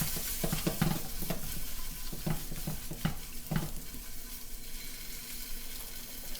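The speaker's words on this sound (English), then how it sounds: "I am going to just put these in my fry pan and let them just brown up" Meatballs browning in a frying pan, a steady close sizzle with periodic scraping stirs of a utensil against the pan throughout.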